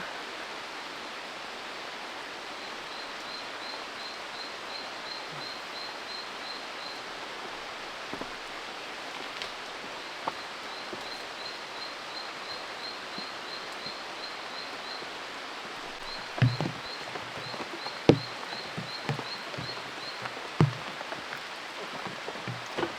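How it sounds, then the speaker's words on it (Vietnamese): Steady, dense hiss of heavy rain pouring down at night around a house, with a few louder close drops and taps near the end. "Trời càng ngày càng mưa to."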